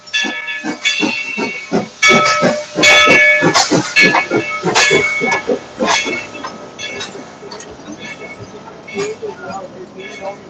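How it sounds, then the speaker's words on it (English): Steam train at Dollywood rolling past a rail crossing, with loud hissing steam bursts and chuffing close by, mechanical clanking, and people talking over the noise throughout. "That's a powerful train."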